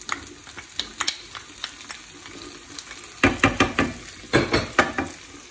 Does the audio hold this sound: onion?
yes